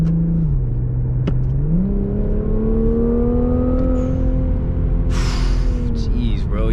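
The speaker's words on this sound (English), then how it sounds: "Yo, that blow-off valve" Infiniti Q60 at wide-open throttle on a night drive: loud engine drone rises in pitch through a pull, then a sharp hissing burst of the blow-off valve venting near the end.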